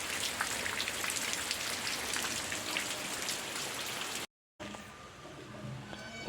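Dense, steady rain pattering on a hard surface, close and fairly loud, cut by a brief silence before continuing more softly.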